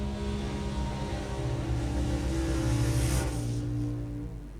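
Two drag racing cars, a Ford and a Holden both running small-block Chevy engines, rumble loudly and steadily in a heads-up sportsman race, with engine tone swelling briefly before easing off.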